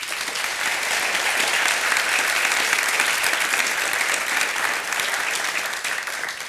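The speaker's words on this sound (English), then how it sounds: "Let's all give them a round of applause." Sustained applause from a large audience, steady and dense clapping throughout without any break or talking.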